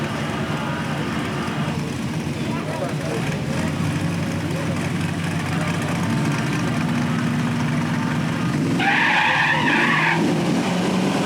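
Drag cars at a dragstrip, an El Camino among them, idle and rev with a rough engine roar, then a louder burst of engine noise near the end, while an announcer talks over it throughout.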